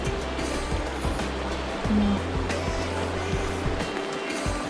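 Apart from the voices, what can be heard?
river water flowing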